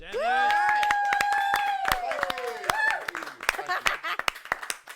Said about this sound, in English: ladies and gentlemen, a round of applause for Dennis.